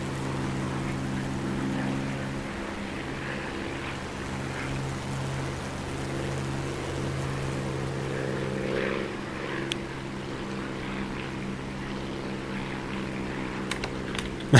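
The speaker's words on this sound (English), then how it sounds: "Dogfight a Spitfire and a P-51." Propeller drone of Spitfire and P-51 piston fighter engines in a DCS flight-sim dogfight, a steady loud hum with layered low harmonics running throughout, a few brief clicks near the end.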